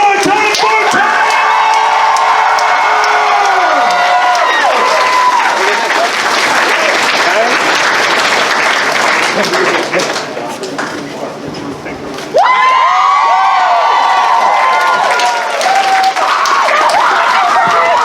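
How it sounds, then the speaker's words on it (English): Crowd cheering and applauding for a performer at the 2022 AnthrOhio fursuit dance competition, loud and continuous, with whoops and shouts. An announcer's voice carries over it, and a brief lull comes before the roar picks back up. "Let's hear it one more time for Tamers!"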